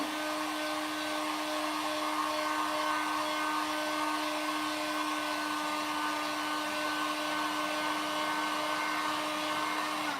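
A hot air blower warms a WoodUbend moulding, giving a steady, continuous whirring drone with a constant motor hum that stays even and close throughout, with no talking.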